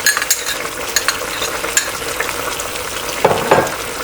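Beef and onion roasting in a pan for an Afghani kabuli pulao, with garlic-ginger paste being stirred in: a steady close sizzle with scraping stirs and a louder burst of activity near the end.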